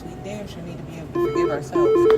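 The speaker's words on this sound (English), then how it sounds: "that's a phone call" A telephone rings with an incoming call, short repeated electronic tones near the end that come in under a man's ongoing speech.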